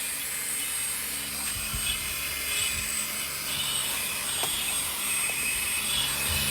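A cordless handheld car vacuum cleaner runs steadily on its regular speed setting, a continuous broadband whirring hum that stays even and close throughout, with no speech.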